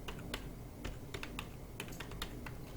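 Quiet clicking of a computer keyboard while someone types numbers into an Excel spreadsheet, a run of irregular close keystrokes with small gaps, no talking.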